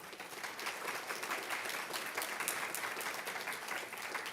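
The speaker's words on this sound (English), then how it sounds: "I actually would like to have a round of applause for them" An audience at a live Alzheimer's research and care consortium event breaks into a steady round of applause, dense even clapping sustained throughout without a break, fairly distant and filling the room.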